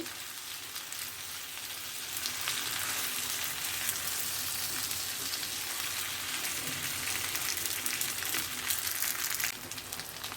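Boiled pasta tossed and stirred in a hot pan for a spicy pasta dish, giving a steady close sizzle and crackle of frying throughout with soft scraping, and no talking.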